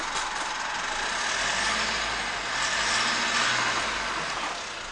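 Mitsubishi MQ Triton 2.4 litre 4N15 turbo diesel engine idling at a dismantling yard, a loud, steady, close diesel drone with a rough low rumble and no talk over it.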